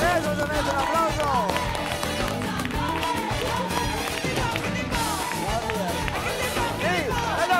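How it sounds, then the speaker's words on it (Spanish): Lively crowd at a Spanish television show claps in a steady rhythmic beat while excited voices shout and cheer over it, loud and continuous throughout. "¡Eso se merece un aplauso!"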